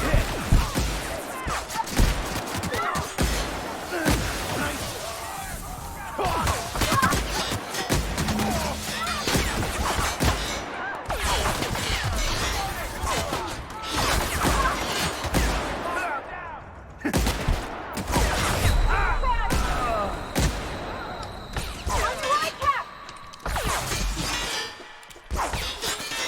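Enemy gunfire in The Outer Worlds, with repeated bursts and single shots, impacts and crashes over a long stretch, loud and close, with brief gaps and some voices mixed in.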